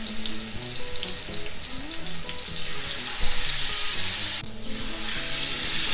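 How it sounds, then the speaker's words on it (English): Fish coated in paste frying in very hot oil, a steady loud sizzle with crackling bursts and a brief clatter of utensils, no talking. "now we're adding the fish"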